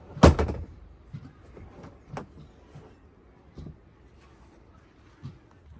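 The plastic lid of a Keter storage unit for trash cans is opened and shut, starting with a loud hard slam and followed by a series of fainter clacks and knocks spaced irregularly, heard nearby in a quiet space.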